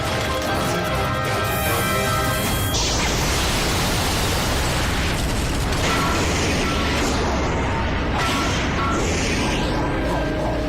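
A bomb explosion in a French spy film, a continuous loud roar of blast noise and debris that fills the whole stretch without pause, with sharp crashes layered in.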